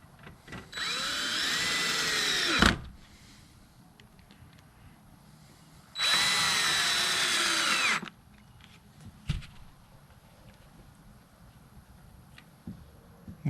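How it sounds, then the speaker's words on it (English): A power drill drives screws into a Larson storm door being installed on a greenhouse, two sustained whirring bursts of about two seconds each, close and loud, separated by quiet handling clicks. "And then drill some screws in there."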